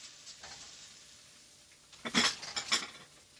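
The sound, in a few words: cabbage cooking down in a frying pan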